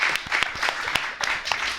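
A small audience at a literary reading on contemporary Caribbean literature claps briefly for a National Book Award-winning author. The claps are scattered and uneven, with a short pause in the middle.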